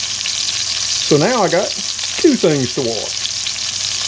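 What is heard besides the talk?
chuck roast searing in a pan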